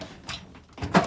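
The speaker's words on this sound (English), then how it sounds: "Let's go down the drawer." A toolbox drawer slides open, a short rolling scrape followed by a louder clunk near the end, close and alone.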